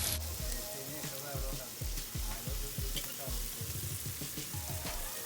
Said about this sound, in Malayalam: ഒരു ഫ്രൈയിങ് പാനിൽ ആവശ്യത്തിന് ബട്ടർ ആഡ് ചെയ്യാം. ബട്ടർ മെൽറ്റായി വരുമ്പോൾ അതിലേക്ക് ചിക്കൻ ആഡ് ചെയ്യാം